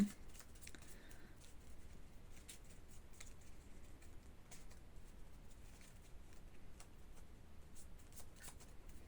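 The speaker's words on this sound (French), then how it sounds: "c'est pas évident à mélanger des toutes petites vignettes là" Small tarot cards are shuffled by hand, a soft, faint riffling patter repeating in quick irregular bursts throughout, close and quiet with no talk.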